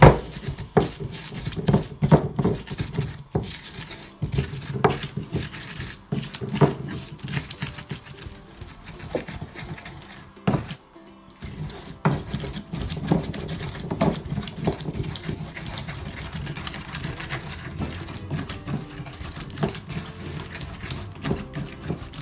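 Onions are ground for Ghanaian etor made with ripe plantain, giving rhythmic, repeated grinding and knocking strokes up close that pause briefly midway, then resume steadily.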